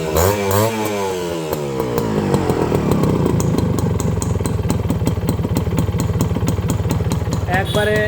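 A Honda CDI 100 motorcycle engine cranks and catches, then settles into a loud, rapid, steady idle close by, its even putter filling several seconds before a voice briefly cuts in at the end.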